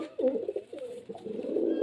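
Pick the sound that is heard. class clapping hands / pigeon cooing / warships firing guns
pigeon cooing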